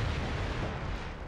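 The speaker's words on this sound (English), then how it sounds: "I see gunfire, but I don't see people." Gunfire in the video game Killzone on PlayStation 2, a dense rumbling barrage of distant shots and booms blending into a continuous low roar with no talking.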